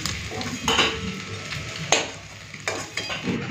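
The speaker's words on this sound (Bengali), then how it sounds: "মাছের তেলের বড়া ভাজা হয়ে যাবে" Fish-oil fritters sizzle in hot oil while a utensil scrapes and stirs the pan in several sharp, irregular strokes.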